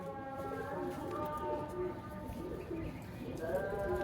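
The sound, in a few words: Ferozpuri pigeon cooing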